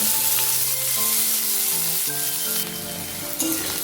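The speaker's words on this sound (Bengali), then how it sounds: "পেঁয়াজটা লাল করে ভেজে নিচ্ছি।" Chopped onion fries in hot oil left from frying potatoes for a bhetki fish curry, producing a loud, continuous close sizzle with faint tones in the background.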